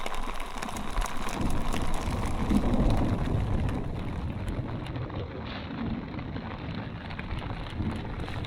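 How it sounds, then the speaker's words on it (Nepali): Heavy mountain rain pours steadily in a dense wash of noise, with gusty rumbling underneath; no one speaks. "पानी पनि लगातार लागेको छ"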